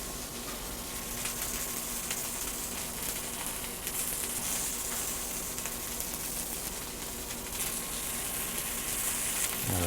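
Beef sears in a hot pan for stroganoff with wild mushrooms, giving a loud, steady hiss of sizzling fat that holds evenly for about ten seconds, close up with no one speaking.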